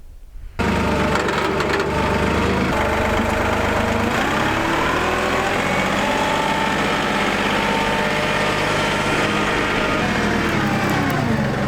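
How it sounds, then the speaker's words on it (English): Tractor engine running steadily as the tractor backs up to a flail mower, a close, continuous idling drone with harmonic whine that starts abruptly and holds unbroken. "I'm gonna go back the tractor in, get it hooked up, get it on a nice level surface"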